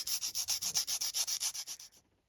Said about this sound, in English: Just keep on sanding until it's good, and go slow and easy,